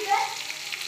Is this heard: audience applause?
no